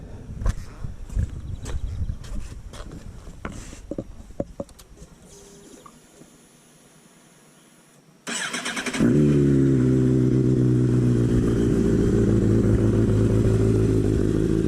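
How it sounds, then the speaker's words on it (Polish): A Suzuki Gixxer motorcycle engine fires up in a garage after faint clicks and rustling, then settles into a loud, steady, close idle rumble. "Maszynka pali, jeździ."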